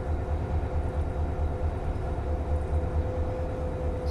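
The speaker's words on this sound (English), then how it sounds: "maybe there's a train coming" A train approaches in a train driving video game set on a San Bernardino, Los Angeles route, heard as a steady low rumble with a faint sustained tone over it.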